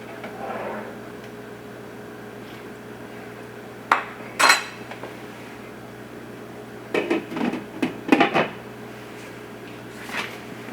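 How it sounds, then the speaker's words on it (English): A pot of red beans for red beans and rice is stirred with a utensil, giving a few scattered scrapes and clinks against the pot at a close distance, with quiet gaps between the bursts. "Now we could just go ahead and stir it."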